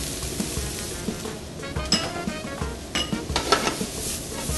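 Vegetables and garlic sautéing in a pan, with a steady low sizzle under clinking and scraping of a utensil against the cookware, close and fairly quiet.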